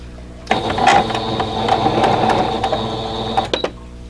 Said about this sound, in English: I'm going to stitch on that drawn line